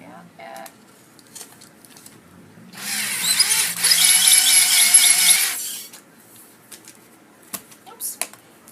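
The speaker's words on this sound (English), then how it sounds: "Make sure I'm not drilling all the way out yet." A power drill bores a pilot hole in a single loud, close burst of about three seconds, with quiet handling noises before and after.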